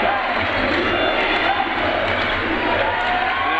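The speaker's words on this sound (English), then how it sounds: "And now the crowd getting into it here." A crowd at a high school senior-night basketball game keeps up a dense, steady roar of cheering, with a commentator talking over it.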